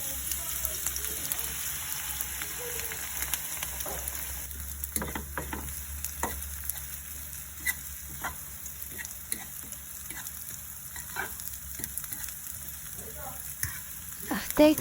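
Dried squid and eggs frying in a pan, a steady close sizzle with scattered crackles and pops throughout.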